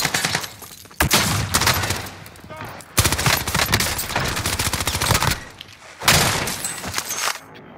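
Bursts of rapid automatic gunfire in Warzone Rebirth, loud and close, coming in several long volleys separated by brief pauses, with faint voices talking under the shooting.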